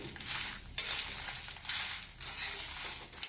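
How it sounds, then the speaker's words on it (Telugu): Lentils and cumin seeds are dry-roasted in a pan over a low flame, with rhythmic rustling scrapes as they are stirred in regular strokes, close and steady. "ఇట్లా సిమ్లో వేయించుకోవాలి"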